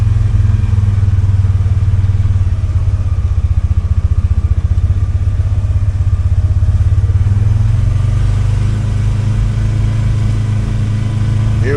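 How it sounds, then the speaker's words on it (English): A Trail Rider 570 off-road vehicle on Sunf tires creeps slowly through mud, its mid-pitched engine chugging steadily at low revs with a faint clattering rumble, close and continuous, no talk. "here we got a little bit of mud."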